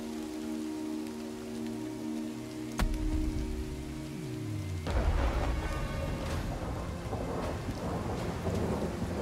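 Thunderstorm in Pharaoh, with steady rain over a low hum, then a sharp thunder crack and a long, heavy rolling rumble that swells into loud, sustained storm noise.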